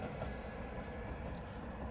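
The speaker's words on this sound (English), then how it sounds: "when the trains come, they look like that" A Nishikigawa Railway train rolls past between a river and mountains, giving a steady, loud low rumble of wheels on rails that holds evenly throughout with no voices.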